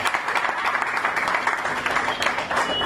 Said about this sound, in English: Let's give another round of applause for EU.